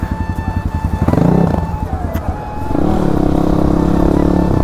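A motorcycle engine runs close by on a ride toward a waterfall near Tokha, starting with a rhythmic putter, then revving up and settling into a louder steady drone.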